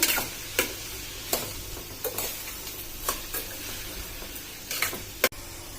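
Onion fries in a pan with salt, giving a soft continuous sizzle broken by sharp intermittent scraping clicks of a spoon stirring against the pan, close up and without speech.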